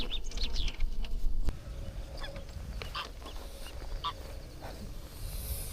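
Geese honk along a country path in Weerribben National Park in the Netherlands, several sharp calls scattered through the first seconds, fairly close, over the hum of an electric bike ride, with fainter honks following.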